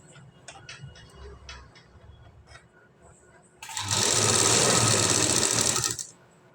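A sewing machine fitted with a single presser foot stitches a work blouse, running as a loud, steady, fast whir for about two seconds after a stretch of quiet ticking and handling noises.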